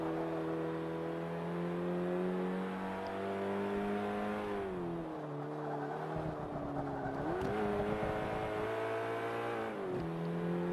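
A Renault Megane accelerates hard in the racing game Forza Motorsport 5, engine pitch climbing steadily, dipping at gear changes and rising again, a continuous mid-level roar with faint tire noise.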